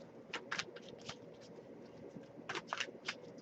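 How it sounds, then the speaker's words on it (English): Tarot cards riffled and shuffled by hand in a few quick bursts, a crisp papery flutter repeating with short pauses over a quiet room. "I'll give it a few more shuffles"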